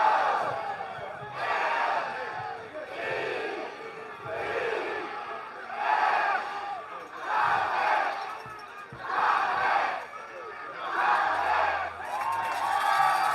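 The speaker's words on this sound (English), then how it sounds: "It's time to hear the crowd." A crowd at a football game chanting in rhythmic swelling waves of roaring voices, rising and falling about every second and a half.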